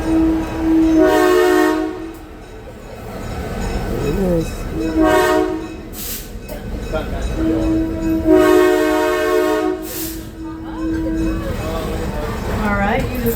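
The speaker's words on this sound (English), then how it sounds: "you just heard that fancy whistle" The Steamtown passenger train sounds its whistle approaching a crossing, giving loud, close blasts, long ones followed by a short one and another, over rumbling wheels and rail noise.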